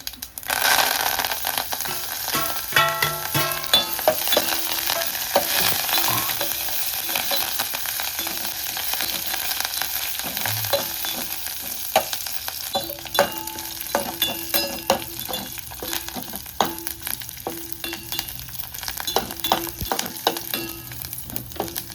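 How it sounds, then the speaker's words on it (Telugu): Garlic and dried red chillies fry in a pan with a steady, dense sizzle that carries through the whole stretch, with occasional stirring clinks and scrapes. No one talks over it. "వెల్లుల్లిపాయ కూడా చక్కగా ఫ్రై అవ్వాలన్నమాట."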